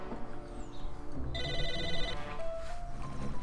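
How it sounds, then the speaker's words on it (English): A telephone rings in the video game Psychonauts, a bright electronic trill repeating over background game music and ambience, fairly loud and with no talking. "What the heck is that sound? A fucking phone."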